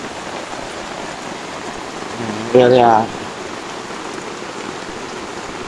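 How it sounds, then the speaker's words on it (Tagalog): Steady heavy rain drums on a tarpaulin shelter at a motorcycle campsite, a dense, even hiss throughout, with a brief spoken word partway through. "Diba narinig niyo yung patak ng ulan, no?"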